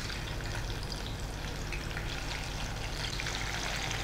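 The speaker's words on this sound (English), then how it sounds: "When oil is hot enough, we will fry this julienne onion." Julienned onion frying in hot oil in a pan, a steady dense crackle and sizzle that holds at an even level for the whole stretch, close by and free of talk.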